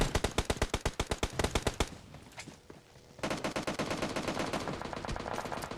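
Rapid gunfire from a battle royale tournament finals fight, with loud bursts of evenly spaced shots, a brief lull near the middle, then dense sustained automatic fire with overlapping shots.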